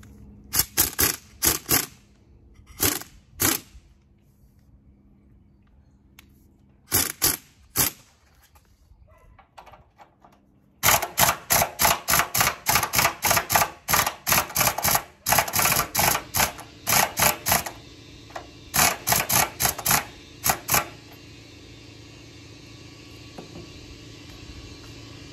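An impact wrench hammers at rusted trailer bolts in short rattling bursts, then long repeated runs of rapid blows as a bolt keeps spinning, close up and loud with no talking.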